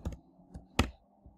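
A few soft clicks of a computer mouse pressing a button, close and quiet, with one sharper click standing out among them.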